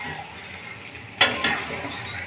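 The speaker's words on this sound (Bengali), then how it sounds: "এই যে আমি এখন চিকেনটা ঘেটে নিব" Chicken with salt and turmeric being stirred in a pan, a low sizzle under two quick sharp scrapes of a utensil against the pan, close and brief, with no talking.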